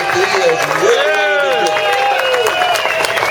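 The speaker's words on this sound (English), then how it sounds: "Let's give him a big round of applause." Crowd applause at a motocross Grand Prix reunion, greeting a five-time 500cc world champion and team manager from Belgium; a loud, steady wash of clapping and voices fills the whole stretch, with a person's voice sounding over it.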